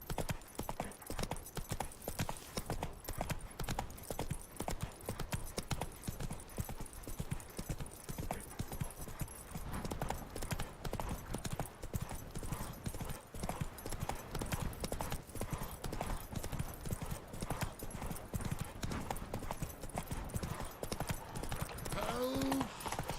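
Roach, a horse in The Witcher 3, trots with a continuous, fairly quiet rhythmic clip-clop of hooves, steady throughout, with a brief voice near the end.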